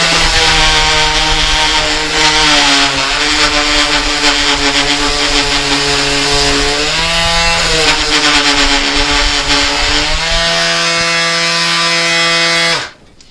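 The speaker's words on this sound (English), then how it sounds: "my solution was to take a regular palm sander and start with a 40 grit on it" A palm sander fitted with 40 grit paper grinds against a copper vase in a loud, continuous buzzing drone whose pitch shifts slightly as pressure changes, stopping abruptly at the end.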